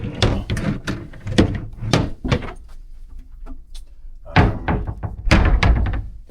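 Hotel room drawers are pulled open and pushed shut in a series of close, loud wooden thunks and slides, bunched in quick bursts with short pauses between.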